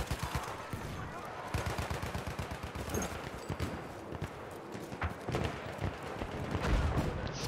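Rapid gunfire from sniper rifles and other guns in the Battlefield video game, with sharp repeated shots forming a dense, steady barrage throughout and a louder close burst near the end.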